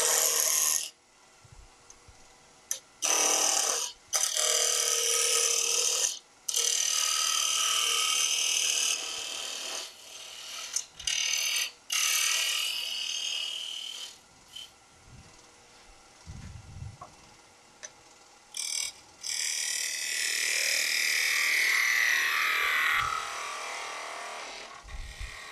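Wood roughed down on a woodturning lathe, with bursts of bright, raspy cutting noise as the tool bites the spinning blank, broken by short gaps and quieter stretches, close by with no talk.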